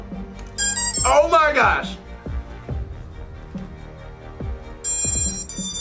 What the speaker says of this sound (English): Why did the motors do that? Why did they go beep, beep, beep, beep, beep?